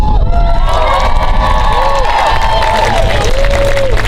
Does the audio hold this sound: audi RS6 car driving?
no